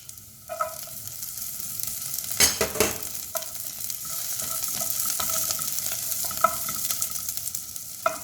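Green chilies fry with ginger and garlic in a hot pan for mushroom curry, a steady close sizzle broken by scraping stirs and a few louder spatters.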